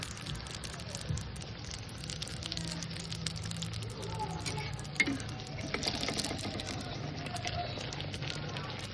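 Malpua pitha, sweet Bengali fried pancakes, bubbling and sizzling in hot oil at a home Poush Sankranti cooking session, a steady crackling hiss that runs throughout with small pops and occasional clinks.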